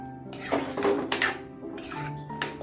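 Prawn curry ingredients with rock salt are stirred in a pot, giving clattering scrapes and clinks of a utensil against the pot, close and fairly steady for a few seconds with no talking.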